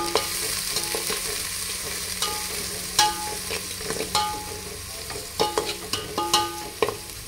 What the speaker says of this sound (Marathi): लगेचच बारीक चिरलेलो कांदो फोडणीत टाकायचो